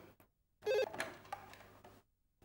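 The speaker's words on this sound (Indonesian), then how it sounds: "Heran, siang-siang begini kok ada telepon." An indoor telephone rings once in the daytime, a short, faint burst of electronic tone lasting just over a second, surrounded by near silence.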